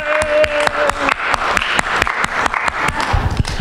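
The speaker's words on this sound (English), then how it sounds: "give her a round of applause" Church congregation clapping and applauding during a service, a dense, lively patter of many hands with sharp individual claps standing out, close and loud throughout, no speech over it.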